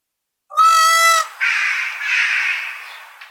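A crow caws up close, one harsh drawn-out call followed by a raspier, longer caw that fades, clear and loud against silence.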